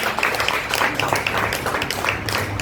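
A church congregation claps for the King of Kings during an intensive training service, a dense steady wash of applause lasting the whole stretch, with faint voices mixed in.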